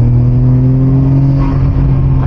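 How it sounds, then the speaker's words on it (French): A Nissan Skyline R34 GT-R V Spec engine pulls hard under acceleration, a loud, close, steady droning roar with strong low harmonics from inside the car. "c'est vrai que c'est excitant ce moteur"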